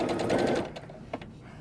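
A sewing machine stitches a quilt panel table runner in a quick close burst that stops after about half a second, followed by a few light handling clicks.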